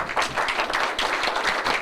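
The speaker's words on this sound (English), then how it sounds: "you just heard a round of applause for a great out" Spectators at a 1999 three-cushion billiards match between Pedro Piedrabuena and Sang Lee applaud a great out, a brief, steady round of clapping from a small crowd, close and fairly loud, with no talk over it.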